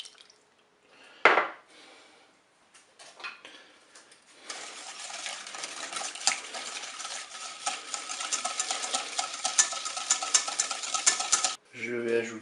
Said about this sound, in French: je vais commencer par battre le sucre avec le beurre